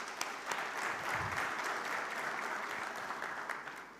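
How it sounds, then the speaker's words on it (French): Conference audience applauding at an industry meeting, a sustained dense clapping of a large crowd in a hall, steady throughout. "Vos applaudissements, s'il vous plaît."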